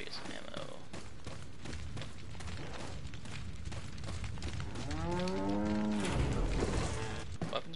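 Inside the video game Resident Evil 4, a cow lets out a long, deep moo that bends downward in pitch over a constant bed of game ambience and noise, with a talking voice heard faintly beneath.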